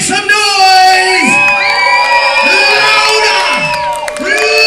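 A convention crowd at a cabaret show cheers, whoops and shouts loudly in repeated rising and falling swells, close and dense.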